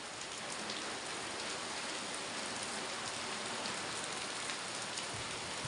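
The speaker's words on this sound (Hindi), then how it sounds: "बरसात हो रही है, अच्छी बात है" Rain pours steadily outside a room beside a garden in the hills, a dense, unbroken hiss that holds at an even level throughout with no talk.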